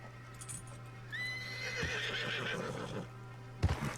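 A horse in Red Dead Redemption 2 lets out a clear, fairly close neigh and whinny, followed by a sharp hoof clop near the end over a low steady background hum.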